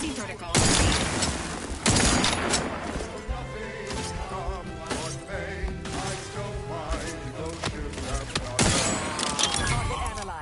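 Gunfire and explosive impacts from The Outer Worlds video game: dense bursts of shots and crashes that come and go over about ten seconds, loud and close, layered over a steady game score with brief synthetic voice lines.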